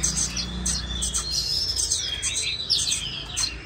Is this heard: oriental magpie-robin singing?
yes